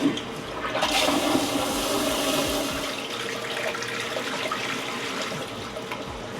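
A HOROW T38 smart toilet flushing, a loud rushing surge of water that peaks early then settles into a steady swirling drain and refill, close up and continuous with no voices.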